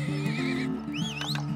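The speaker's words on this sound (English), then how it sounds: "Some horses." Horses in the video game Turmoil let out a loud, close whinny with rising and falling pitch. Another shorter neigh follows, along with faint hoof clip-clops.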